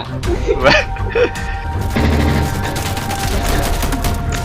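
Gunfire in the shooter game Insurgency: loud, rapid volleys of close shots and cracks in quick succession, with people talking over the shooting.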